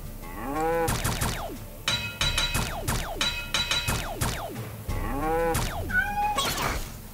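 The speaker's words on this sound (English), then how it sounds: "Oh, it's a cat." A cat meows repeatedly in a game-show sound quiz, several drawn-out, wavering cries in quick succession mixed with low lowing tones, loud and close with no talking over them.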